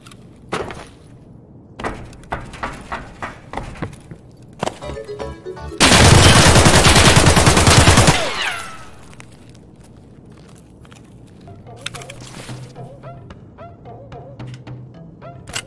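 Rapid gunfire in Escape from Tarkov, a dense burst of shots lasting about two seconds, loud and close, set among sparse clicks and scattered in-game handling noises.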